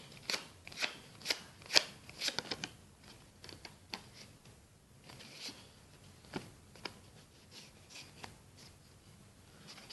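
A deck of playing cards handled during a magic trick, with soft papery flicks and riffles, sharper at the start and then a string of lighter, quieter snaps.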